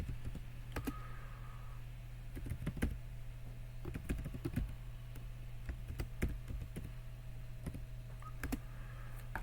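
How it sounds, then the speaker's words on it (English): Steady computer keyboard typing while entering code, irregular bursts of close, crisp key clicks over a constant low hum, no talking. "Actually, I don't know why I'm typing this."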